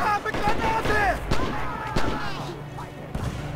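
Grenades burst in a World War II-style online team match, Axis against Allies, several muffled booms and thuds scattered among distant gunfire while a commentator talks over the action.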